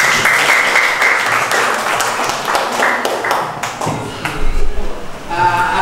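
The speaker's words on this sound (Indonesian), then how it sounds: "Tepuk tangan untuk Bapak." Scattered hand clapping breaks out in a classroom teaching session to applaud a man, arriving as uneven taps and claps after a brief voice, fairly close and moderately loud.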